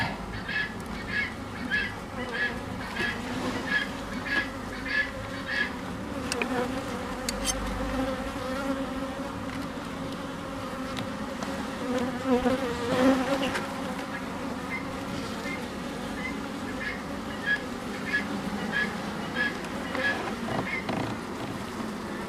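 Steady buzzing of many honey bees at an apiary hive fills the scene, close and continuous, with a faint rhythmic tapping pattern and occasional low rumbles underneath.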